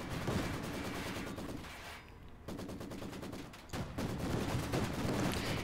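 An AA half-track in Company of Heroes 2 fires sustained rapid machine-gun bursts at a large building, loud and dense, briefly thinning in the middle before the hammering resumes.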